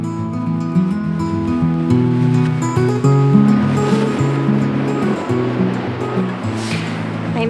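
Cold winter North Sea surf breaking on a Danish beach, a steady loud wash of waves with constant rumble, with faint voices or tonal sounds running underneath.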